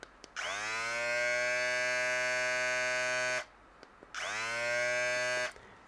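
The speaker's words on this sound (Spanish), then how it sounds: "Esta es la última que llegó, la Kemei T299. Escuchen." A Kemei T299 electric foil shaver switched on twice, each run a steady, close, loud motor buzz lasting about three seconds, then about one and a half seconds, with a brief silence between.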